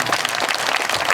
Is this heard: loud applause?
yes